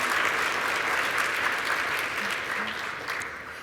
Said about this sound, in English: one last round of applause for all of our early career award winners